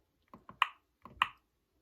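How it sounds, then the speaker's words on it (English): Sharp, close hand claps ring out in two quick bursts, each a pair of short dry slaps with a brief pause between, clean and isolated against silence. "Clapping is short."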